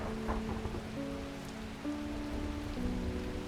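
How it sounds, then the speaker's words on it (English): Rain falls in the video game Strange Horticulture as a steady, even patter on a surface, with a soft, sustained tonal drone beneath it and no voices. "there's the rain again"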